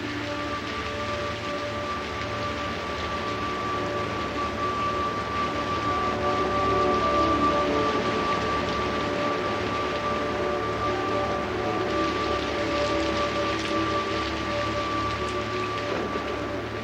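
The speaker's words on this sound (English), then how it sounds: "In 3 days, as much as 30 inches of rainfall can sweep across the forest." Heavy tropical rain falls on forest in Belize, a dense steady hiss with a sustained tonal hum beneath, unbroken and fairly loud throughout, no voices.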